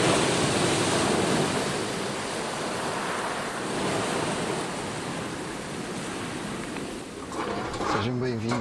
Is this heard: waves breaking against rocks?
yes